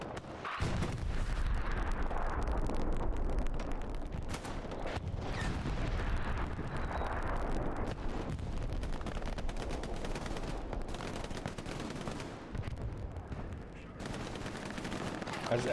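Battlefield fire in Hell Let Loose, with an anti-tank gun among dense, continuous gunshots and booming blasts rolling together at high intensity, while voices talk over the combat.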